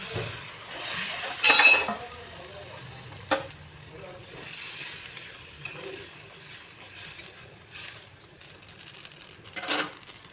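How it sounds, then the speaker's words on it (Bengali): Boiling water poured into a hot pan of fried spices over a raised gas flame sets off a loud burst of hissing, then a softer simmer with scattered clinks and a few later surges. "দিয়ে তাতে দেখুন ফুটন্ত গরম জল দিয়ে দিচ্ছি"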